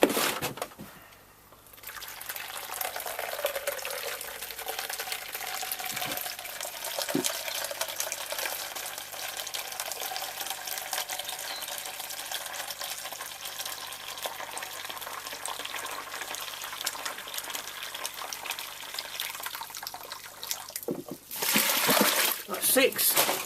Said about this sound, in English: I'm going to add about 8 litres of this cooled boiled water into here